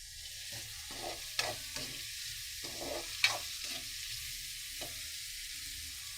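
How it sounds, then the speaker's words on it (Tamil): Onions sautéing in a pan for a Tamil fish gravy, with scattered soft sizzles and stirring scrapes at close range, a few sharper clinks of a spoon against the pan, no voices. "ஆனியன் வந்து நல்லா வதங்கணும்."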